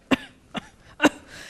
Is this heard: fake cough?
yes